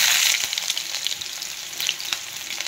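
Onions frying in hot oil for a paneer curry give a bright, crackling sizzle, loudest at first and then settling into a steady hiss with scattered pops and spits, close and alone.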